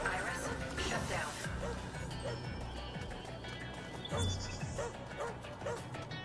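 A dog barks several times in the video game Astral Chain, repeated yips and woofs at moderate distance, with game sounds and talking over them.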